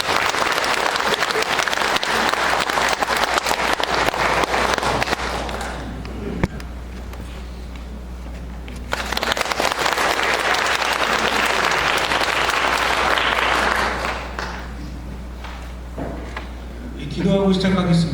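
An audience in a Catholic lecture hall claps to welcome a priest, a loud dense burst of applause that fades, swells again, then dies away as talking resumes.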